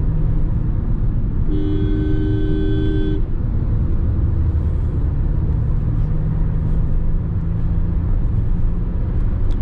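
Maruti Suzuki car cruising in fourth gear at about 60 km/h and 1500 rpm, its low engine drone and road rumble steady throughout, with a short horn toot from traffic early on and no voices.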